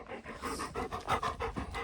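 Dogs pant close by in quick, rhythmic breathy huffs, fairly quiet and with no talking.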